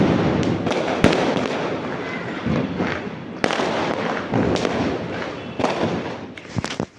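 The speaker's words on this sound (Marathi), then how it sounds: "छान असे फटाके वाजताना बघत असतो" Diwali fireworks burst around an open terrace, a continuous crackling roar punctuated by repeated sharp bangs and pops at varying distances, with no talk over them.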